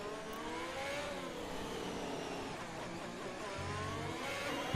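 Formula 1 race car engine from F1 2021 at the Monaco Grand Prix, revving high and steady with a quick upshift near the end, loud and continuous with no talk over it.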